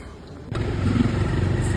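A motorcycle rides onto a rough, broken road near Devgadh in Dahod. After a half-second lull, a close, steady engine rumble and road noise cut in and carry on to the end.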